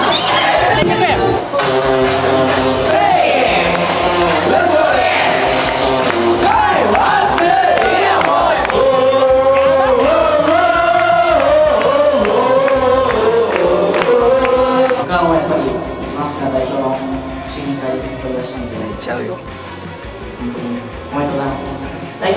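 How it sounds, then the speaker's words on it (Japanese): A rowdy champagne call at a Kabukicho host club's tenth anniversary, where a crowd of men loudly chants and shouts in rhythmic unison over pounding club music, staying near and energetic before easing off at the end. "止まらないシャンパンコール"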